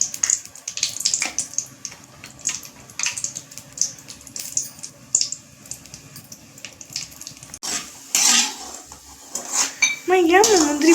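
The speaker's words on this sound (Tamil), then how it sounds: "இப்போ முந்திரி போட்டு வறுத்து எடுத்துக்கலாம்" Pan work at a home stove while cashews roast in ghee: a busy clatter of metal pots, pans and spoons scraping and clinking up close, with a brief rush of running water near the end.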